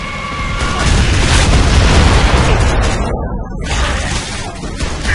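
A mortar shell in Gears of War 3 bursts in a heavy, loud blast, followed by a long roar of rumbling debris that fades out.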